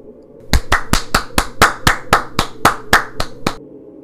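Eleven or twelve crisp hand claps ring out in a steady, evenly spaced rhythm, close and dry over a faint low hum, as a spooky story unfolds, with no voices.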